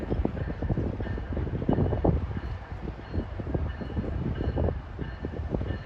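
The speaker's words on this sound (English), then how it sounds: "Some New York-bound Bombardier double-deckers arriving at 5:22." A New York-bound Bombardier double-decker commuter train arrives at Rahway station, its steady rumble and rattling wheels close and loud throughout with no talk.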